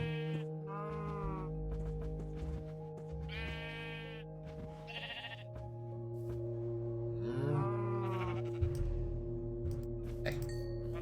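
Minecraft sheep bleat repeatedly, mixed with cow moos, in a game farm scene, the calls overlapping in a steady, moderately loud chorus.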